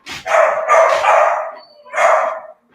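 A dog barks repeatedly at a printer indoors, a few loud, close barks in quick succession followed by one more after a short pause.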